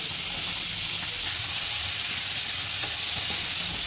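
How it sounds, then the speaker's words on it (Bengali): Onion, garlic and green chilli fry in a hot pan with a loud, continuous sizzle and hiss, while stirring adds faint scrapes throughout. "এখন আমরা পেঁয়াজ দিয়ে দিব, এই রসুন দিয়ে দিব, এই কাঁচা লঙ্কা দিয়ে দিব।"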